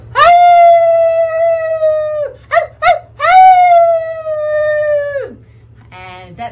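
Several people imitate wolves howling at a full moon, two long sustained voiced howls with short yelps between, loud and close, followed by a brief higher wavering call.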